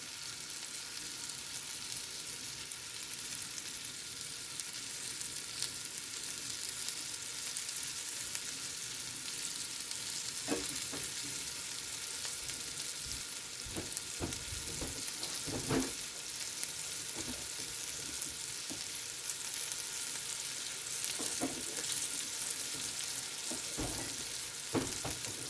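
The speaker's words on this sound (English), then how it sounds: "If you listen carefully, you can hear it sizzle" Steady sizzling of beef frying in olive oil, a constant bright hiss with occasional louder pops and crackles; no voices.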